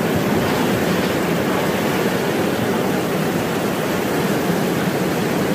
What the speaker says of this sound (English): It's been raining like this for about half an hour.